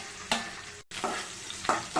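Chopped garlic fries in a small amount of hot oil in a kadai for an egg puff filling: a steady close sizzle with sharp scraping stirs, a brief break in the middle, and no talking.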